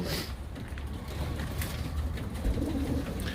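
Pigeons cooing softly inside a coop, repeated low throaty coos over a constant close background rustle, with no talking.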